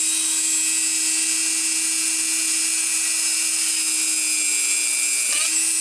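A drill bores steadily through a lure body, its whine high, even and close for several seconds with no talk, breaking off sharply at the very end.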